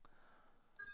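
A mobile phone gives a short notification chime near the end, a quiet pair of bright electronic tones over near silence.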